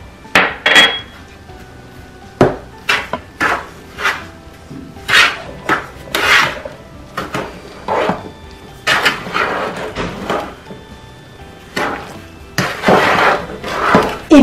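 Tamale dough with a pinch of salt being mixed in a bowl: repeated scraping and knocking strokes at an uneven rhythm over about fifteen seconds, close and fairly loud, with no talk.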